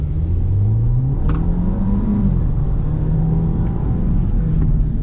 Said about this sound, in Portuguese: no modo Poison, uma aceleradinha de leve, ele já ganha bastante velocidade